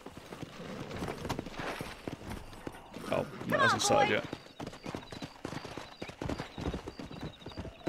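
Horse hooves clip-clop in the Red Dead Redemption video game, a quick rhythmic patter that swells briefly to a louder burst midway, heard under people talking in the room.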